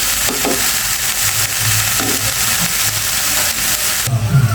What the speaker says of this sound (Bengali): পাতা কপিটাও আমার প্রায় ভাজা হয়ে গেছে আর একটু ভেজে নেব